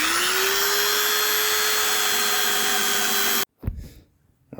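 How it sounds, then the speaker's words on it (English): A handheld electric sander runs on a wooden garlic chopping board, a loud continuous whine with a steady tone that stops suddenly, followed by a few brief knocks and handling sounds. "Alright, that was much easier with the sander."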